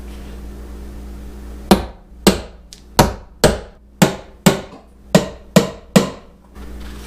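Nine loud, sharp hammer blows dent a Ford Bronco's metal tailgate at a fairly steady pace, each ringing briefly before the next, with a low hum underneath.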